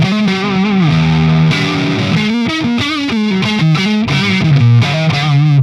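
Electric guitar through a Friedman IR-X, thick, distorted and chorus-tinged, moving from sustained bent notes into choppy rhythmic chords, loud and continuous with no talk.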